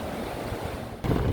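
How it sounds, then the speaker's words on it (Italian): The Una river flowing through the town of Bihać, a steady rushing wash of water heard from a bridge, briefly rising louder near the end. "questo che vedete è il fiume Una, che è il fiume più importante che attraversa la città di Bihać"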